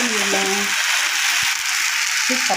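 Ingredients for coconut chutney sauté in a pan with a strong, even sizzle throughout, while someone talks briefly over it.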